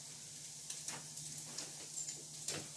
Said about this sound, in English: let me show you over here in the frying pan.